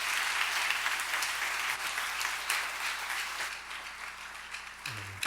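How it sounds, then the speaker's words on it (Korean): A church congregation claps together during a Sunday worship service, sustained dense applause at moderate distance that slowly fades toward the end, with a faint voice near the close. "하나님 앞에 영광의 박수 올려드리겠습니다"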